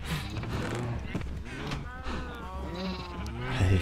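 Baby sheep in the video game Minecraft bleat several times in short wavering calls, close and fairly loud, with faint creaking and game noise between them.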